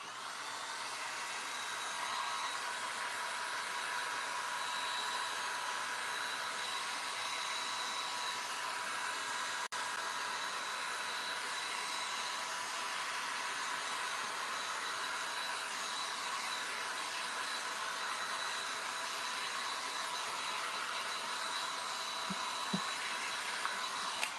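A hair dryer runs steadily at close range, force drying a coat of milk paint on a flat surface, a continuous airy whoosh with a faint high whine that holds even throughout, with no talking.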